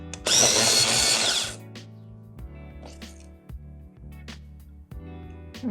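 A long point pencil sharpener grinds a pencil in one loud, rough burst of about a second. Quieter scrapes, taps and handling noises follow.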